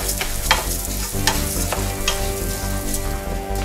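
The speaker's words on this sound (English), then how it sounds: "1 cup of the rice and stir this constantly about a minute, minute and a half, and that'll crack that shell off of the rice" Rice being stirred constantly in a hot pan while toasting for risotto, a close, loud sizzle broken by repeated rhythmic scraping strokes of the spoon against the pan.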